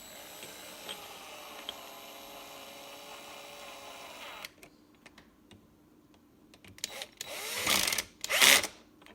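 A cordless drill driver fitted with a driver bit drives screws, a steady motor whine giving way to short, loud bursts of whirring near the end, with clicks and handling noise between runs.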